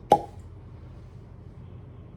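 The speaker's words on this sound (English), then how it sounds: "Nice cork pop." A cork is pulled from a bottle of Wild Turkey Kentucky Spirit bourbon, a single sharp, close pop followed by quiet room tone.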